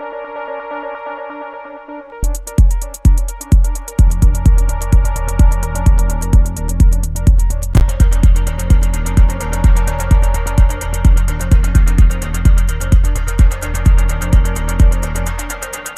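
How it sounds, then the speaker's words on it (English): A synthesized house-to-techno melody runs through an echo delay whose feedback loop is modulated by an LFO, starting after a quiet pad with a steady repeating pulse and smeared, building repeats that grow denser and louder, alone without talk. "The second audio track I've set up with an echo, which is a delay with the possibility of having a positive feedback loop in there"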